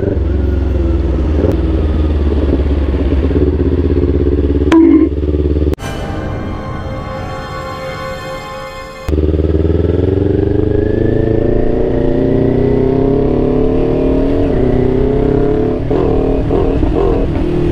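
A Kawasaki Ninja 400 motorcycle engine rumbles close by, then revs up sharply in bursts with rising pitch before settling into a steady idle, loud throughout.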